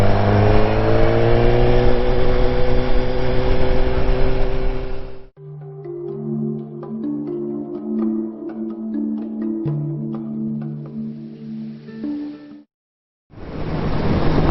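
A 2014 BMW S1000R motorcycle engine on a test ride, loud revving climbing through the gears at first, then a lower, throbbing idle with shifting pitch. After a brief cutout, the revving picks up again.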